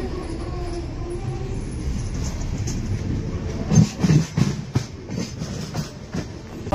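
A local train running from Kharagpur to Digha rattles along with rhythmic clickety-clack from the wheels and carriage, steady at first, then with louder bumps and jolts from close inside the coach.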